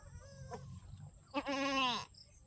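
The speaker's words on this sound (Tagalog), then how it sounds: "Dalawang kanyang anak na mga baby kambing" A newborn goat kid gives a short faint bleat followed by a longer, louder wavering bleat, close by against a quiet farmyard background.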